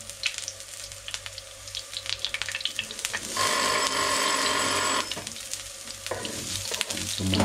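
Garlic sautéing in a pan for paella, a steady sizzle with scattered stirring clicks and scrapes, growing louder and denser in the middle and continuing to the end.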